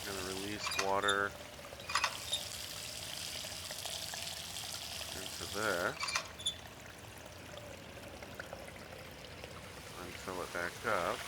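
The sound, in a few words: water being released and pouring in, from the video game Riven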